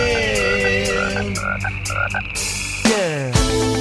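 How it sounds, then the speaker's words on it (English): In a children's song, a frog croaks in a few loud, low, rhythmic bursts over the music, voiced like an animal call with nobody talking. "And here comes Frog with much to say, a croaking and a jiving."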